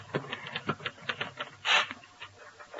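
Typewriter keys clatter in an irregular run of sharp strikes, with a brighter carriage-return or bell-like burst near the end, set in an old radio comedy.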